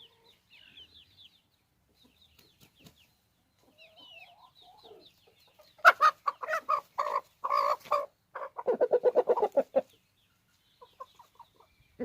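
Faverolles chickens cluck and chatter softly at first, then a burst of louder, rapid clucking and squawking rises from nearby hens.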